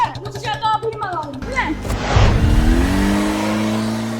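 Talk comes first, then a car engine surges and revs with a loud rushing whoosh. It settles into a steady, droning hum that runs to the end.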